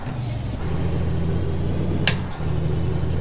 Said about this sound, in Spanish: freno motor.